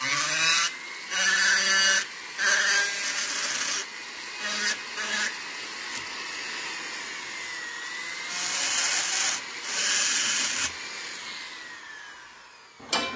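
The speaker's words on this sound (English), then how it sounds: "Because you're literally paying for somebody to sit here and grind things." A jewelry ring is hand filed and ground in short, scratchy bursts of rasping grinding, broken by brief pauses, with one longer stretch of grinding near the end.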